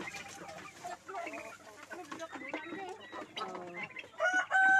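Heritage chickens, about three months old, on a Mindanao farm cluck and crow repeatedly at close range, with short crowing calls standing out near the end and a few faint voices behind them.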